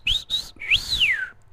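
A single person imitates a crowd of excited women whistling: two quick high whistles followed by a longer rising-and-falling whistle, clear and close with no other sound.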